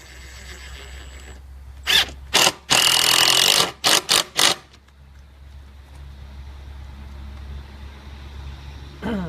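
A power drill drives rust-resistant exterior screws into wood in a few loud, separate bursts, one longer run between short pulses, followed by quieter room hum.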